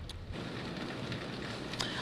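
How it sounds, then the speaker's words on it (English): Heavy rain during Hurricane Idalia at Garden City on the coast, with gusty winds near 40 mph, makes a steady, dense hiss that fills the whole span, with a brief louder gust or splash near the end. "we've really seen some heavy rain and gusty winds"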